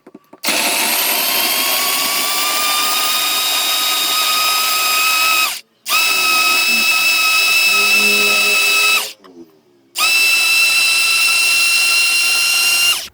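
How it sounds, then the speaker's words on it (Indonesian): A mini chopper grinds chopped shallots and candlenuts in three loud, steady whirring runs, separated by brief pauses and some rattling as the contents settle. "Di sini aku potong-potongin dulu bawang sama kemiringnya ya teman-teman, untuk dihaluskan menggunakan chopper mini andalan aku."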